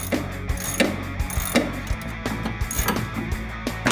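Socket ratchet loosening the master cylinder bolts on a 1965 Mustang at the firewall, giving rapid clicking pawl strokes in short repeated bursts, close and clear, with no talk over it.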